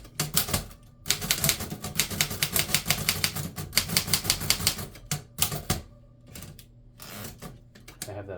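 Keys of a 1920s Remington Remette portable typewriter clatter close up in fast, dense bursts, with brief pauses and a carriage-return clunk near the end.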